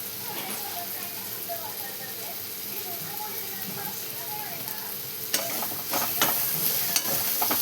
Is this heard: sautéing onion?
yes